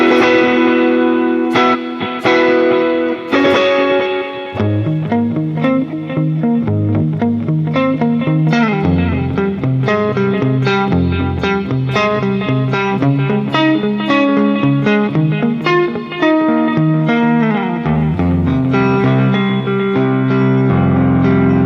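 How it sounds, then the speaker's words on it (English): Electric guitar played through gain, delay and reverb effects, picking out chords and arpeggios, with ringing repeated notes that trail off into echoes, loud and continuous with no talking. "Really big stretches, a lot of nice delay and reverb."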